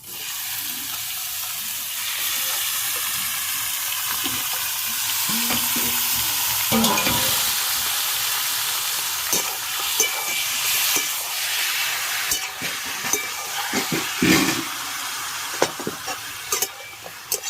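Loud, steady sizzle of chicken meat frying in hot oil with browned onions, close up, with bursts of spattering and scraping stirs growing more uneven toward the end.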